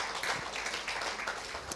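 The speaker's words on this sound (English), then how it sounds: "Again, a big round of applause," A conference audience gives a presenter a round of applause, dense, even clapping from many hands that runs steadily throughout.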